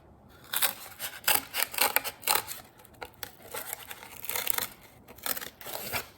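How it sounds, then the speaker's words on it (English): Scissors cut a cardboard letter for a yarn-wrapped craft in repeated short, crisp snips and crunches of the board, close up, in uneven bursts with brief pauses between. "So now I'm going to cut my letter out"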